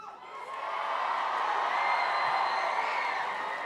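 A crowd at a school wish-granting assembly cheers and whoops for a girl named Lucy, making a broad, sustained roar of many voices that holds steady throughout.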